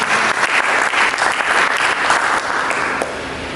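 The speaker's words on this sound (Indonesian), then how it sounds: "Mari kita berikan tepuk tangan bagi Yesus." A church congregation claps together in sustained, dense applause that holds steady for a few seconds, then eases slightly toward the end.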